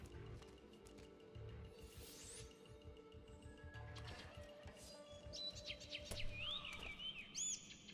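Canaries chirp in a level of the video game Assassin's Creed Chronicles: China, with short high tweets and a brief rising trill toward the end over a steady low game ambience.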